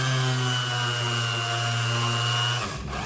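Steady, loud mechanical whine of a power sander working over the body of a vintage gas pump, droning continuously with strong tonal hum before cutting off near the end.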